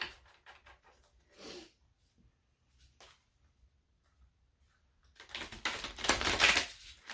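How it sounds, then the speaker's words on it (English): Soft, scattered riffling and tapping of tarot cards at first, then a louder burst of rapid shuffling toward the end, close by. "This deck's a little harder to shuffle."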